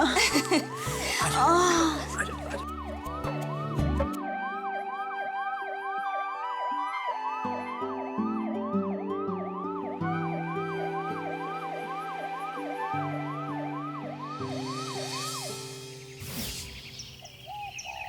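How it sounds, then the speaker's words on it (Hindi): An ambulance siren wails, rising and falling repeatedly, sounding fairly close, layered over background music that starts and stops. "लो एम्बुलेंस आ गई है"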